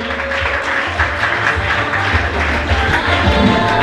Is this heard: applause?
yes